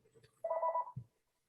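A telephone gives a single short, loud electronic ring burst, followed by a low thump and then quiet, with faint background murmur before it.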